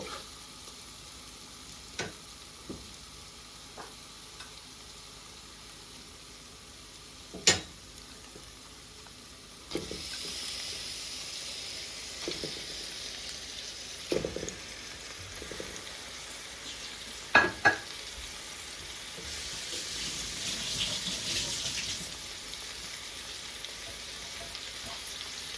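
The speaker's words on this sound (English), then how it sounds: "It's been almost 2 minutes since this is frying." Low, steady sizzle of chicken frying in masala and oil with occasional sharp clinks and scrapes of stirring, growing a little louder partway through; no talking.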